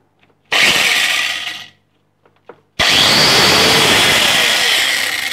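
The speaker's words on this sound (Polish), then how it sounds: "Szlifiereczka kątowa." A power tool whirs loudly for about a second, stops, then after a few faint clicks runs again steadily, close and harsh.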